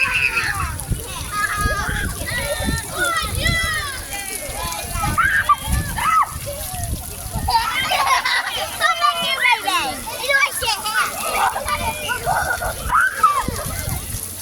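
Water fountain splashing and sloshing while children play, with young voices and a parent talking over a continuous wash of water for the whole stretch.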